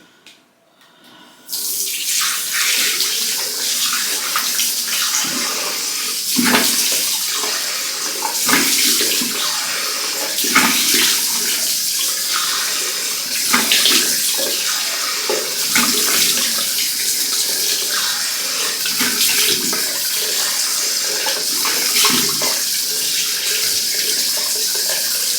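Tap water runs steadily into a sink while a face is rinsed during a makeup-removal routine, a continuous splashing wash with small bursts of splatter as hands scoop and splash. No voice is heard over the flow.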